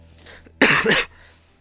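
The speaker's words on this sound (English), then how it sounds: "I coughed." One loud, sharp cough bursts out close by, a short harsh double-pulsed hack against a quiet background hum.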